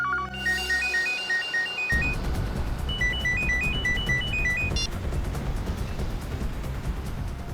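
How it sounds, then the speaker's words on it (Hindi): A phone's ringtone plays a repeating melodic chime pattern, loud and close, sounding twice in short bursts over a background of car interior rumble and a low drone. "ये फोन की घंटी बिल्कुल सही टाइम पर बजी नहीं श्रेया?"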